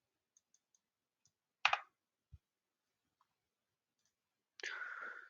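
A computer mouse clicks a few times while working in Windows Registry Editor. The clicks are sharp, isolated and quiet, spaced seconds apart in a near-silent room with no talking.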